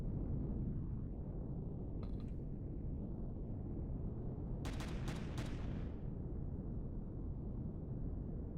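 Rocket fire strikes a hover tank in Empyrion Galactic Survival, heard as a single sharp crack and then a quick burst of three or four loud impacts over a constant low rumble of engine and battle noise.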